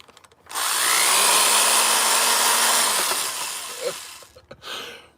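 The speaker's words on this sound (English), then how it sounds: "I can't get the cake off my drill" A power drill with cake stuck on it whirs loudly and steadily for about two and a half seconds, then winds down, with a short burst of spinning again near the end.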